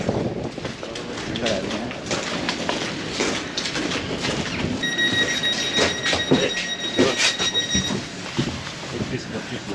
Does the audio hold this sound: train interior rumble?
yes